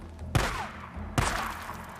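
Two loud, close gunshots about a second apart in the game Days Gone, each a sharp crack followed by a decaying echo, with no voices.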